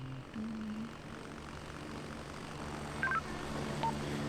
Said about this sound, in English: Wait, you got a heli on your position right now?